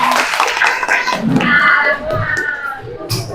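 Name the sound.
applause, class clapping hands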